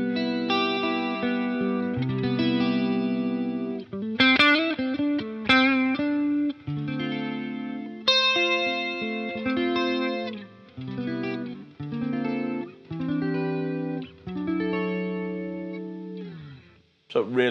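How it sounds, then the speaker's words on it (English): A clean electric guitar through a Boss Waza amp with a shimmering chorus effect plays a melodic run of chords and single notes, close and steady, with no talking. "throw a bit of chorus in on that"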